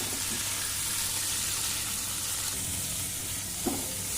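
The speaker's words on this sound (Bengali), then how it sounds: "যে তেল গরম হয়ে গেছে, চিংড়ি মাছগুলো দিয়ে দিচ্ছি।" Prawns frying in hot pungent mustard oil in a pan, a steady soft sizzle running throughout with a brief louder crackle near the end.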